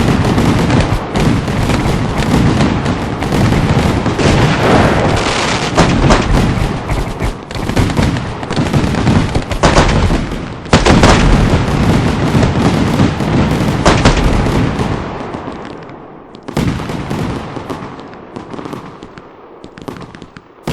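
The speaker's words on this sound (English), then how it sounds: "You ain't gonna tell me that was one of the sickest things I've ever seen in firework." Fireworks go off in a long rapid barrage of sharp cracking bursts and pops, loud and close, dense for most of the span before thinning into scattered bangs and a fading tail near the end.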